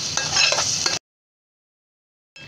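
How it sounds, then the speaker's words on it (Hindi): Onion paste frying in a pan gives a brief, bright sizzling hiss for about a second, then cuts to silence before the sizzle briefly returns. "अब इसे ब्राउन होने तक फ्राई करेंगे।"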